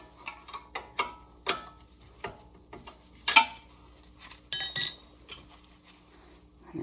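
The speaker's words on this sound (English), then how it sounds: "It takes a 17 millimeter wrench on these big bolts back here." A 17 mm wrench working big brake caliper bolts on a 2007 Honda Fit: a close series of metallic clicks, ratchety ticks and clinks, uneven in rhythm, with a couple of louder clanks.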